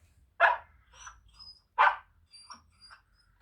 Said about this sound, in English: Shh, Barney, stop barking.